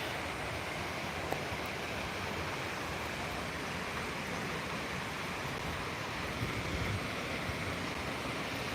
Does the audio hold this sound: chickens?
no